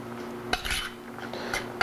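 Spoon clinking against a bowl while tomato salsa with coarsely chopped basil is stirred, a few sharp scrapes and taps at irregular intervals over quiet background hum.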